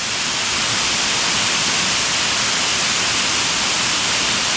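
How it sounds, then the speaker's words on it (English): King Creek Falls, a waterfall on the Foothills Trail in South Carolina, gives off a steady, loud rushing roar of falling water that holds unchanged throughout, with no voices. "then you saw this waterfall. This is King Creek Falls."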